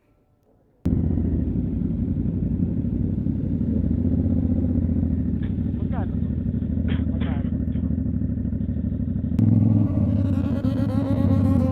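A motorcycle holds a loud, steady high rev under launch control, droning close to the camera for several seconds with faint clicks over it. The rev then shifts and surges near the end, with a voice speaking briefly.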